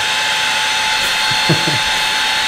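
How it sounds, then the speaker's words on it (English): A hairdryer's steady whir played as a sleep sound, a constant bright broadband hiss holding at even level, with a couple of faint low thumps partway through. "I quite like the sound of a hairdryer."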